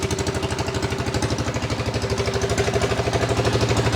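A John Deere lawn tractor engine running with its muffler fallen off, a loud, close, rapid popping putter that chugs evenly at idle throughout, with no voices over it.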